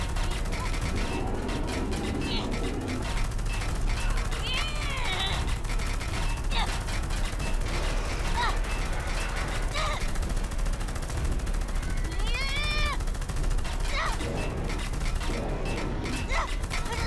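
Gunfire and machine-gun bursts in a French-dubbed dinosaur adventure film, dense sharp cracks running continuously beneath shouted voices and animal-like cries, loud and busy throughout.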